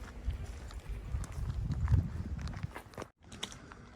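Donkey hooves clop irregularly on a path in Kotor, Montenegro, soft and fairly close, with faint outdoor background noise and a brief dropout near the end.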